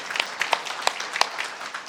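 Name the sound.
congregation applauding in church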